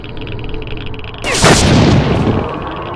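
A railgun discharges in the shooter S.T.A.L.K.E.R. Shadow of Chernobyl: a single loud, sharp crack with a sweeping electric whine, following a low, steady hum and decaying over about a second.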